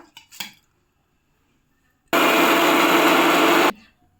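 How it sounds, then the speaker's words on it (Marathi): Soaked rice being ground in a kitchen mixer, a loud, steady whirring roar that starts abruptly after a few light clinks and runs about a second and a half before stopping sharply. "आता सर्वप्रथम बघा आपल्याला तांदूळ बारीक करून घ्यायचा आहे"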